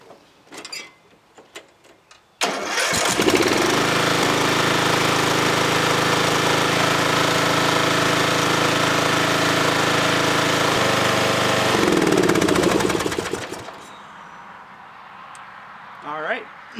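A lawn tractor engine just fixed after a gas line repair cranks and catches, then runs loud and steady for about ten seconds before shutting down, with faint clicks and handling noises before and after.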